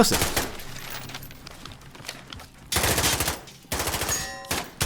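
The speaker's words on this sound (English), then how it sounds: "We're hearing this gunfight. The bullets sound way different when they hit metal versus a box versus a person" Gunfire in a Call of Duty: Modern Warfare firefight, bursts of rapid shots and bullet impacts striking metal, boxes and people, loud and close in clustered volleys separated by brief quieter gaps.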